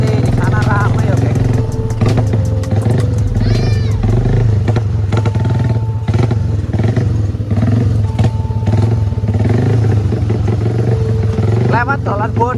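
Honda CB motorcycle ridden on a road near Baturraden, a steady loud engine drone with wind rumble and occasional clatter over a weak suspension, with someone talking over it throughout.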